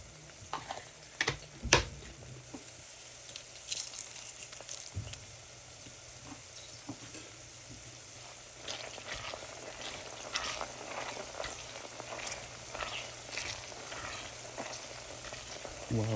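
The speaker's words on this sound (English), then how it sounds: "While the onions are slightly cooking, I'm going to go ahead and just allow those to keep on frying up" Onions sizzling and crackling in a hot pan for salsa macha, a steady frying hiss with occasional louder pops and stirring clatter nearby.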